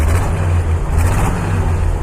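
A 1946 Dodge WD20 dairy truck's original engine held at a steady raised rev, a loud, close, continuous low rumble with a faint whir above it and no talk.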